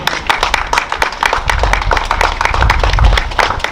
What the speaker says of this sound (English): let's give a round of applause for our housing team